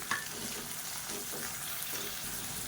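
Finely chopped large onion sautéing in a pan for a leftover idli masala, a steady broadband sizzle with a few soft stirring scrapes, close and fairly loud throughout with no talking.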